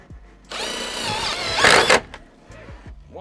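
A power drill drives a screw to fix a shade over a van window. The motor whines steadily for about a second and a half, then strains briefly as the screw seats, with small clicks before and after.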